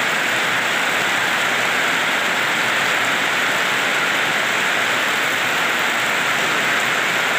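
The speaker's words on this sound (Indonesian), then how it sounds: "hujan cukup deras di depan rumah saya" Heavy rain pours down in front of a house, a dense, steady, loud hiss that stays constant throughout with no voices.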